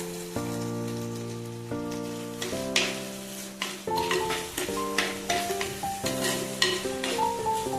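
Tomatoes cook in a pan for rasam, giving a steady sizzle with bursts of stirring and scraping, heard close up under soft background music.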